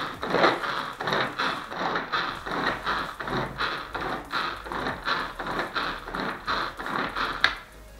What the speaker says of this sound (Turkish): Ve blenderımızı da katıyoruz.